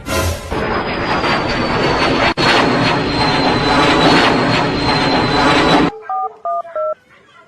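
An airplane roars past in a loud, steady, broadband rush with a faint whine for several seconds, cutting off abruptly; a short run of electronic phone-keypad beeps follows in the quiet.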